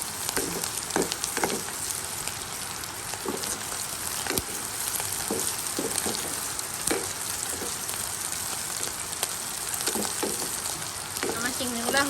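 Prawns fry in a pan with cumin powder, turmeric and chili, a steady loud sizzle with occasional spatula stirs and scrapes throughout.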